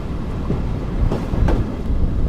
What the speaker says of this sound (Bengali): আমাদের ট্রেন প্রবেশ করছে কাকুনহাট রেলওয়ে স্টেশনে